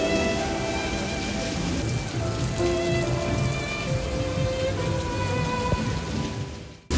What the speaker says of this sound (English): So hard it's raining.